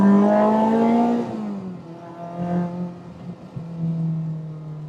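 A supercharged K20-swapped Honda Civic Type R EK9 engine revs hard and climbs in pitch, drops briefly at a gear change around 6,500 to 7,000 RPM, then pulls again through the next gear, loud and close.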